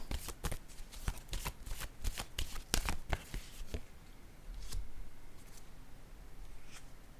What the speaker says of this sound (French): Je vais déposer une carte sur... OK, ici, allons-y encore.